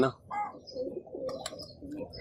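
Teddy pigeon chicks make soft cooing and chirping calls, close and modest in volume, mixed with low background noise.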